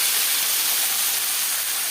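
Panch phoron spice mix frying in hot oil for a light katla fish and potato curry, giving a loud, steady, continuous hiss with no talking.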